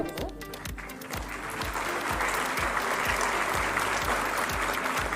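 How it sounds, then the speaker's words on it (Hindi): A large audience at an Uttar Pradesh government ceremony applauds newly appointed instructors, continuous crowd clapping that swells slightly, with a regular low thumping beat pulsing underneath. "आप तालियों के माध्यम से शुभकामनाएं हमारे इन नव नियुक्त अनुदेशकों तक पहुंचाएं।"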